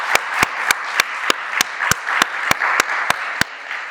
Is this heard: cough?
no